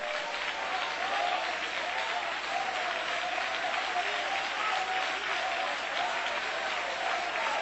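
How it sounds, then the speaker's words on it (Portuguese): A church congregation applauds together, a dense, steady patter of many hands clapping continuously at moderate distance, with no talking heard over it. "Isto, mais palmas."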